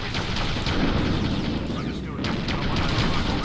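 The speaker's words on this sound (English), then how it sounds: "The gunfire starts." Dense, continuous battle noise with rumbling bursts and crackling shots, sustained gunfire in the strategy game Ground Control, with a voice talking faintly underneath.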